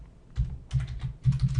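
Keystrokes on a computer keyboard come in two short bursts of rapid, close-miked taps with a brief pause between them, and no one speaks over them.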